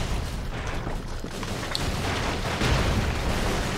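Dense, continuous explosive rumble from the run-and-gun video game Broforce, a loud sustained blast wash with a swell near the end, no talk over it.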